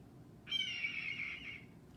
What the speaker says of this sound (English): So this one's really common to dub over a bald eagle.